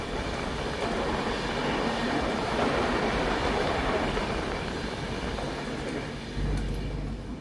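A train running on a railway track beneath a highway gives a steady, continuous rumble with a faint clickety-clack of wheels, holding level throughout with no voices.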